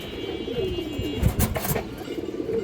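Pigeons coo softly in a loft, with low murmuring calls over faint background hum and a brief cluster of rustling or flapping in the middle.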